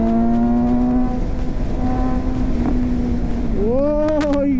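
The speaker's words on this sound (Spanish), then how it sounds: "Aquí me estoy arriesgando para que vean más o menos la aceleración." A Suzuki GSX-S 750 motorcycle accelerates through city traffic, its engine note climbing in pitch, dropping at a gear change and then rising sharply again under heavy wind rush.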